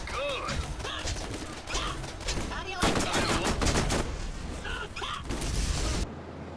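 Sustained automatic gunfire in Borderlands, shooting at the feet of shielded soldiers: dense, loud rattling bursts continue nearly throughout, with brief voice fragments underneath.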